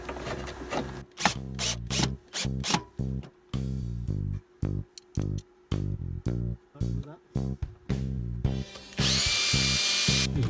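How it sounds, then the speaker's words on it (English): A power drill drives four mounting screws into a bracket during a Victron battery replacement and Phoenix inverter installation aboard a sailboat, sounding in repeated close bursts of whirring with short pauses between them. "I'm just going to put these extra mounting screws in"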